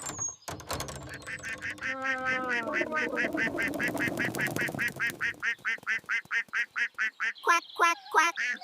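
A duck quacks repeatedly in a fast, steady series of loud, nasal calls close by, accompanied at first by a splashy, muddy burst of sound and overlapping vocal noises.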